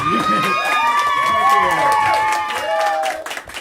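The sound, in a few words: audience clapping and cheering at a show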